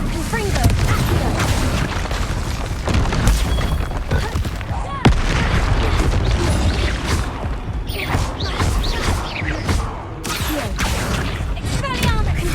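Rapid spell blasts in the wizarding game Hogwarts Legacy, with repeated booming and crashing impacts, some sharp and gunshot-like, packed closely throughout and mixed with a voice.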